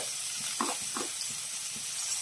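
Vegetables sizzle in a pan for upma, with a soft steady hiss and a couple of brief stirring knocks, fairly quiet and without speech.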